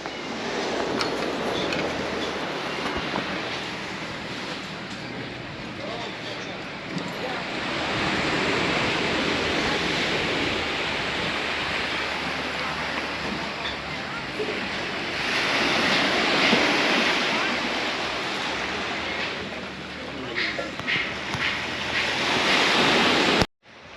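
Surf rolling onto the beach at Koh Mook island, Thailand, heard from a viewpoint above: a steady, loud wash of breaking waves with wind buffeting the microphone throughout, swelling at times.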